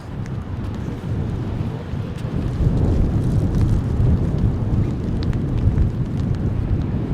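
Strong wind gusting across an outdoor disc golf course, a loud low rumbling roar buffeting the microphone and swelling midway, continuous and close with no voices.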